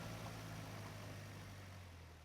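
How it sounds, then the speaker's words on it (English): Distant car engines idle and rumble across an open riverbed in rural Somalia, a steady low drone held at a faint, even level with no voices. "I heard some distant brake squeals and a bit of engine noise"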